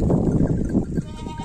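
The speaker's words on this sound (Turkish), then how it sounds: "koyunlar yayılıyor" Sheep bleating close by on a cold, snowy grazing ground, a couple of short wavering bleats in the first second followed by quieter rustling, with no speech.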